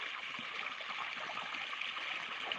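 Water flows steadily into a field of pigeon pea plants during irrigation, a faint, even rush and trickle with no other sounds.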